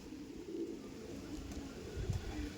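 Andhra pigeons, a female among them, give soft, faint coos close by in a quiet loft, a couple of low murmuring calls.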